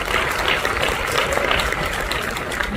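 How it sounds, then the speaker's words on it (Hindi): An audience claps steadily for Dr. Amol Kadam and Prashant More, a dense, even patter of many hands that holds throughout with no voices over it. "एक बार डॉक्टर अमोल कदम सर और प्रशांत मोरे सर के लिए जोरदार ताली होनी चाहिए"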